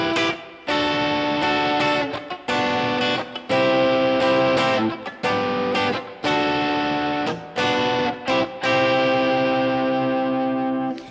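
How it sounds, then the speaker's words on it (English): An electric guitar played through heavy distortion rings out loud and sustained in repeated chord phrases, with brief gaps between strums, in a guitar lesson on a song. "Maybe the distortion is a little bit high."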